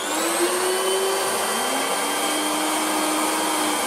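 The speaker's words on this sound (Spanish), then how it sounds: "Hay que ponerlo en la batidora fuerte." A steady, loud electric whir runs without a break, high-pitched and close, as an electric mixer whips cream with sugar at full speed.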